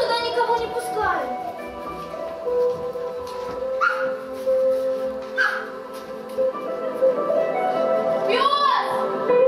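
In a puppet show of "Little Muck", a performer's voice imitates a dog with whimpering yips and short barks, mixed in with lively spoken dialogue.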